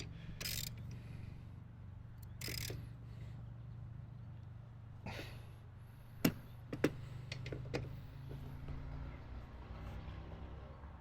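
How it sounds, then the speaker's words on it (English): A wrench works on a tight Predator 9500 generator drain plug, producing a few faint, scattered metallic clicks and taps in a quiet room, with soft rustling handling noises in between. "I'm going to have to get a bigger wrench."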